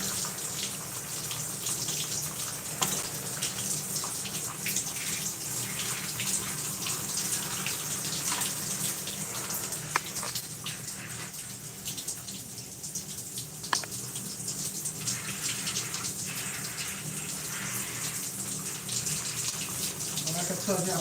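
Water running steadily as twisted hair is rinsed, a constant close splashing hiss from a tap or shower with small spatters, lasting throughout with no speech.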